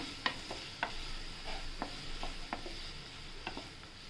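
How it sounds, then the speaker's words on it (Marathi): Two large onions sizzle in hot oil while being stirred, with a steady frying hiss and repeated scraping clicks of the spoon against the pan at moderate volume, no talk. "त्याच्यात कांदा भरपूर टाका, परतून घेऊया."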